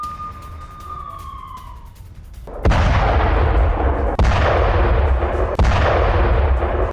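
Russian artillery fire in Kherson: after a faint wavering siren-like tone, three loud heavy booms land about a second and a half apart, each followed by a broad rumbling decay, with no voices.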